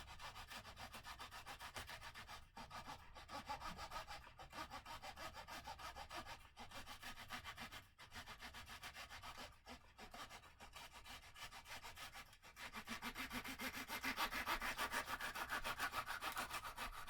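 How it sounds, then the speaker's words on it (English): A hand saw cuts through wood with steady back-and-forth rasping strokes, close and even in rhythm with short pauses between runs, growing slightly louder and faster toward the end. "Just take my time and saw through."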